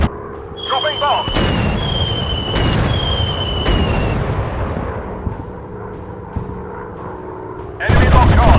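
A bomb dropped from a World War I plane in a video game explodes in loud, heavy blasts, with sharp bursts near the start and a second blast at the end, over steady engine and battle noise.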